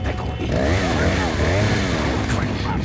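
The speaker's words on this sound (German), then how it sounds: "Chainsaw." A chainsaw revs in Resident Evil 4, its buzzing engine snarl rising and falling continuously and loudly, with game voices talking over it.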